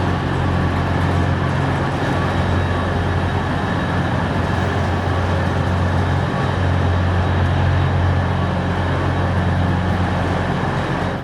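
Steady rail and station rumble at London King's Cross, a continuous loud low drone of trains with no clear speech, holding evenly throughout.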